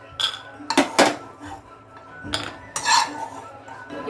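Fried dry fruits tipped from a pan into a bowl for laddu, giving a few sharp metallic clinks and scrapes of utensil on cookware, close by with quiet gaps between.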